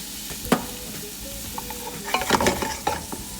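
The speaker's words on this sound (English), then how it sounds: "we're going to saute our onions first" Onions sauteing in heated olive oil in a pan, a steady close sizzle with occasional stirring scrapes and clinks, no voices.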